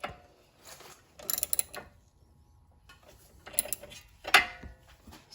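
Allen key and open-end wrench tightening sway bar end links on a Subaru Outback during ball joint and control arm work, giving a few short metallic clicking, ratcheting bursts separated by quiet pauses, close and moderately loud.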